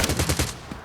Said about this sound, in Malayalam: ആ വെടി വരുന്നുണ്ടല്ലോ.